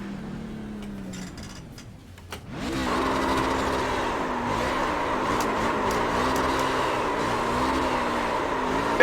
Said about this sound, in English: when you're done doing burnouts